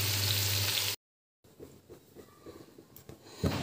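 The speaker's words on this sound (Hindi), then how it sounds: "अब मैं इसमें डालूँगी तेल, थोड़ा फ्राई हो गया।" Onions sizzle in hot oil in a pan, a brief loud burst cut off by silence, followed by quieter frying crackle with light scraping and a few clicks nearby.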